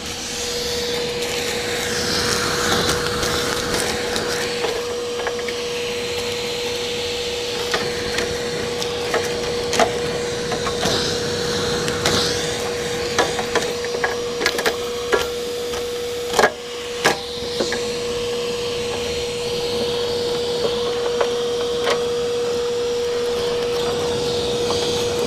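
A vacuum cleaner sucks debris out of the engine bay of an EA Ford Falcon, between the radiator and air-conditioning condenser, with a steady loud drone, a constant whine and frequent rattling crackles as bits are pulled through.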